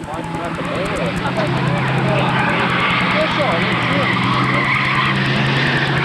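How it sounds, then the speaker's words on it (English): A race car backing into the pit area at a fall enduro race at Kings Park Speedway, its engine droning loud and steady alongside tire noise, with a commentator talking over it throughout. "as Stacey Getz backs himself into the pit area"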